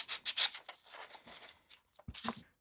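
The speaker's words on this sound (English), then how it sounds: "I might give it a light sand, just in case there's any little defects in there" Light hand sanding on a Dredd Lawgiver prop, quiet rubbing strokes in a few quick bursts, then a pause and a final short scrape.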